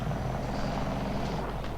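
Battlefield 4 attack helicopter on the Railway map, a steady low rotor and engine drone filling the short stretch with no talk over it.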